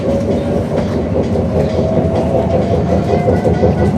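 Steady onboard rumble of a London train heading to Abbey Wood via Canary Wharf, wheels clattering in a regular clickety-clack over the track, close and continuous without speech.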